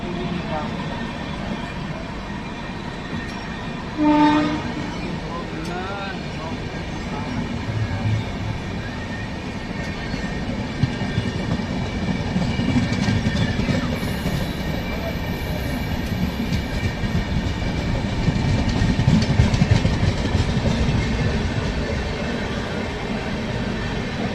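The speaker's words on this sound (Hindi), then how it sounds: "इंदौर एक्सप्रेस, हम सफ़र एक्सप्रेस यहाँ पर से निकल रही है।" A Humsafar Express passenger train passing nearby, a long steady rumble with rhythmic clickety-clack of wheels on rail joints that swells toward the end. People talk over it.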